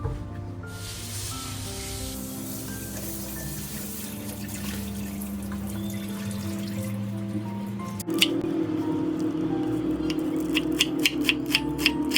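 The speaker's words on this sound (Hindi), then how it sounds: "बस पहले मैं पालक को वॉश कर लूँ" Spinach leaves are washed under running kitchen tap water, with a steady flow, soft splashing and wet squishing of the leaves, which grows louder and busier partway through.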